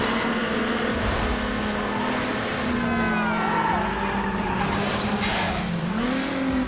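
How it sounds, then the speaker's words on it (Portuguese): A Subaru roars in the racing game Need for Speed Underground Remastered. The loud, sustained engine drone holds a steady pitch and rises near the end, with hints of tire squeal and little talk. "de todos os carros que eu usei aqui na série até agora, o Subaru foi o que teve o ronco mais, né?"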